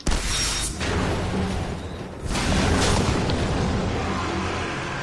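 A staff weapon fires like a bazooka laser cannon in the video game Enslaved: Odyssey to the West, heavy booming blasts with a rumbling, sustained roar, loud and continuous, with a brief dip before a second surge.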